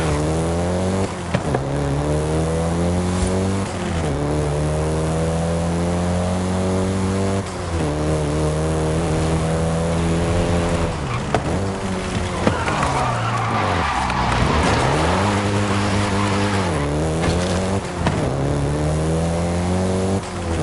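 VW Golf GTI hot hatch in Forza Horizon 5, its engine revving up through the gears in repeated rising sweeps with shifts between them, tires squealing and skidding in places, loud and close.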